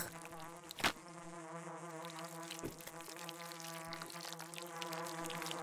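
Insects buzzing in the video game Pathologic 2: a continuous, droning, fly-like hum that stays close and steady throughout, with one brief louder swell near the start.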